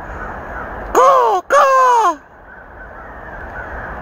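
Riled-up crows give two loud, harsh caws in quick succession close by, each a drawn-out call with a brief gap between, then the air falls back to quiet background.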